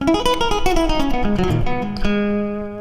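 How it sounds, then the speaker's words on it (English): A bright acoustic guitar plucks a quick run of notes, then lets a final chord ring and fade, close and clear with no other sounds. "unplugged, it sounds like this. Just a nice little acoustic guitar."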